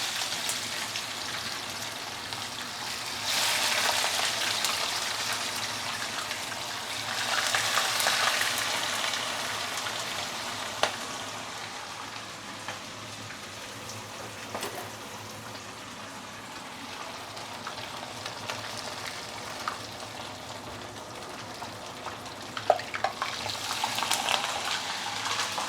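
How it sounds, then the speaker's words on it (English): Black pomfret fish sizzles in oil heated to smoking point, a dense crackling hiss that swells in several louder waves, with occasional sharp pops over the steady frying. "After you put in the fish, let it fry for at least 2 minutes on the first side"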